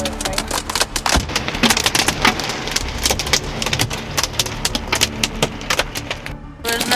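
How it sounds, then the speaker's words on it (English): Hail hammers a 1972 vintage RV at night, a dense, loud, continuous clatter of sharp impacts on the roof and skylight that keeps up throughout with barely a pause. "wait till all the hail stops"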